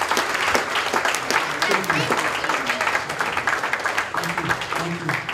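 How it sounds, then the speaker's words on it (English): An audience applauds service members from the Indian and United States militaries as they stand at an annual award dinner; steady clapping fills the hall while a voice speaks over it. "you all deserve a huge round of applause"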